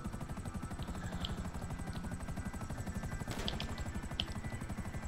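Helicopter in a video game, a loud continuous rotor thump with steady rhythmic chopping throughout and faint small sounds over it.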